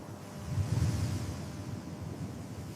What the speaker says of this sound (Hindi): जैसे ही मूसा ने हाथ बढ़ाया, एक तेज पूर्वी हवा चलने लगी।